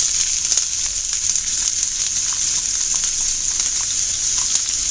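Onion frying in coconut oil over medium-high heat sizzles loudly and continuously, a bright hissing crackle with occasional small pops and stirring scrapes, close up.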